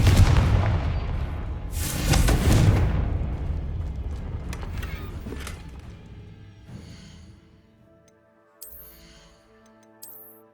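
Confringo fire spell blasts in Hogwarts Legacy on PS5, two heavy booming explosions in the first three seconds that crash and rumble away, then quieter magical chimes and tones near the end.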